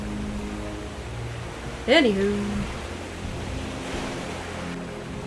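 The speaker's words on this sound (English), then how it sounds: "Some big heavy waves we got, eh, bird?" Ocean waves in the survival game Raft, a constant soft washing surge heard up close, with a voice briefly speaking over it partway through.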